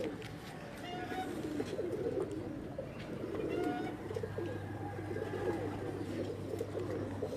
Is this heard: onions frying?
no